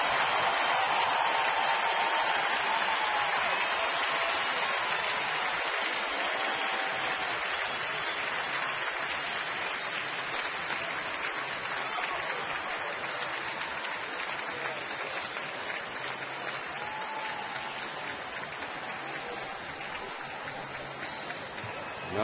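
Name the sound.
baseball crowd applauding injured player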